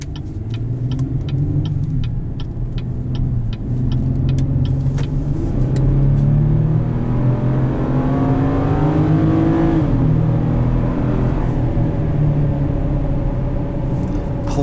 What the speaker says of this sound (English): Plenty of power from this V6 motor.